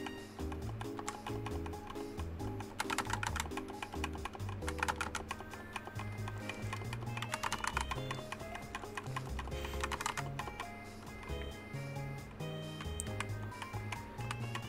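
Rapid clicking on a computer keyboard during Pokemon Green play. The close, dense keystrokes come in bursts and stay under constant game music throughout.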